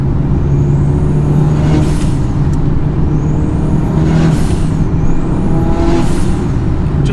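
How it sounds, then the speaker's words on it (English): A turbocharged car engine with an Evo 8 exhaust manifold builds under load with repeated rising whistles of turbo spool, three climbing pulls over a steady rumbling drone. "take it for a test drive, and straight away I can tell you the car's spooling up heaps faster"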